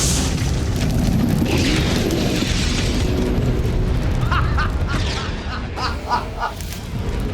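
Gas-air mixture explosion blowing out the front of a test house, a sustained, loud roaring blast that fills the clip and then trails off into crackling debris and rumble.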